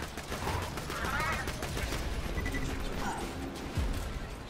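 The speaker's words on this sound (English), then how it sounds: "Oh god, who's shooting me with lasers?" Rapid gunfire and mechanical weapon noise from Borderlands 2 combat, a continuous busy clatter of shots throughout at moderate loudness, with talking mixed in.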